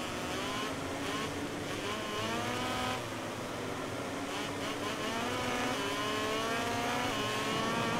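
Motorcycle engines racing in MotoGP 19 at Assen, a continuous loud high-pitched engine roar with rising and falling revs as the bike brakes into a corner, steady throughout with no talking.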